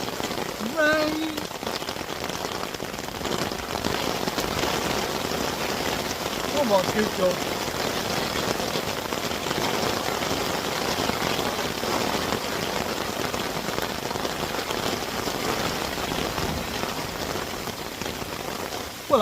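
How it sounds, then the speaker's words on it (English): Steady rain patters hard on a surface nearby throughout, with someone briefly speaking over it, while carp fishing. "Rain."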